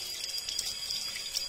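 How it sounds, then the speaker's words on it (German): A tap runs steadily into a sink while hands are washed beneath the stream, an even close splashing hiss with light water patter and no talk. "So, Wasser haben wir an. So, da wäscht man sich dann halt die Hände."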